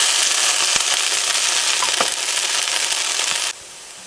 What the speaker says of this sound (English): So we're going to fry these up.